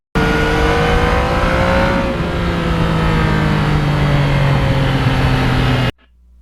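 A Yamaha MT-09 motorcycle is ridden hard through the gears, its engine note rising steadily in one loud, unbroken run, dropping once as it shifts, then rising again before cutting off abruptly.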